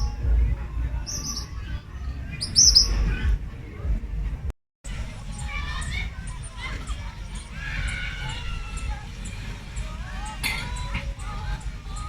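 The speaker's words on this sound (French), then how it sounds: "des oiseaux qu'on voit pas, mais alors on les entend, c'est incroyable" Unseen birds singing among trees near a beach in the Antilles: scattered high chirps and warbling calls, fairly faint and distant, over a low background murmur with people talking at times.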